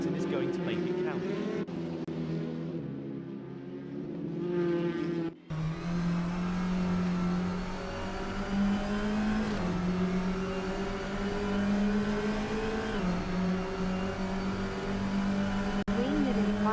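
Touring car engine in a racing sim holding high revs on a qualifying lap, a steady droning whine with gear-change dips, continuous under a commentator's voice.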